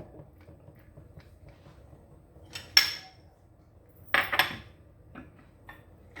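Metal kitchen utensils clink and clatter in a few brief bursts while a strainer is fetched during preparation of a homemade pepper paste, with quiet gaps and faint room noise between the clanks.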